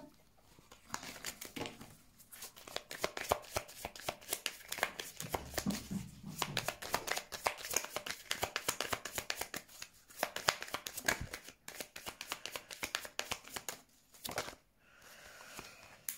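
A deck of Lenormand oracle cards is shuffled by hand for a tarot-style reading, a long run of dense, papery riffling and flicking that goes on with brief pauses, close and fairly soft, with no talking over it.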